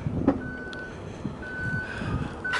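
The automatic power tailgate on a Haval H8 LUX opens with a hum, clicks and a few long, steady electronic beeps spread across a few seconds, close by and without talking.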